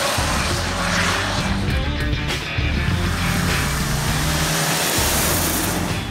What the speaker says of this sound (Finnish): Vaikka moottori huutaa kovillakin kierroksilla